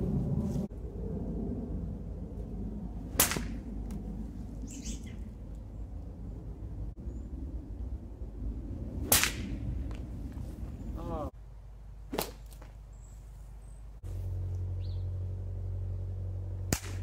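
Three-strand jute sling with a shortened tail cracks sharply outdoors, a few loud isolated snaps spread across the stretch amid background noise and some talking.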